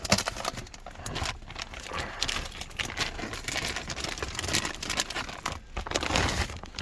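Crinkly packaging being pulled and rustled out of a box holding a replacement gloss black fascia plate for an Eonon Q53pro Android head unit, with steady close crumpling and crackling throughout.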